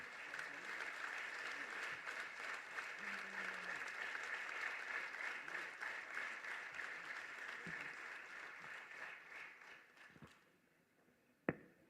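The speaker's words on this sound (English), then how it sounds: "A huge round of applause to Vinoj." A crowd at a political gathering in Central Chennai applauds winning candidate Vinoj with sustained, fairly loud clapping that slowly thins and fades out near the end, a few sharp knocks standing out at the close.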